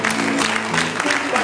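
An audience applauds the performer Lello Perdido, a dense burst of clapping that fills the whole short stretch, with faint crowd voices mixed in.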